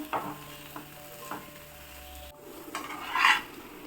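Potatoes for a quick breakfast cooking on a low flame in a pan, giving a soft, steady sizzle with a few stirring scrapes and a brief clatter near the end, close and quiet with no talk.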